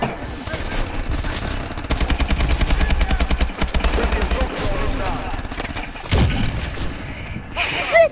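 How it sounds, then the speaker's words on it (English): Friendly missile strikes land in a video game, heard as a dense rapid rattle of impacts and bursts, loud and close, continuing for several seconds with brief heavier thumps near the end. "Friendly missile strikes incoming."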